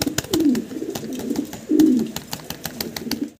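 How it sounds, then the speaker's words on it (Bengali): Farm-bred pigeons coo close by in soft repeated phrases, alongside scattered clicks and light rustling. "এগুলা আবার খামারের কবুতর"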